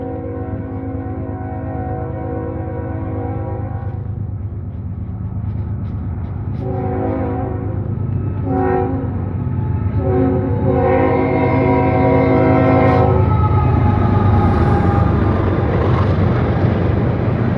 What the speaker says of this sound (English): We got another train coming at Radnor Road in Radnor,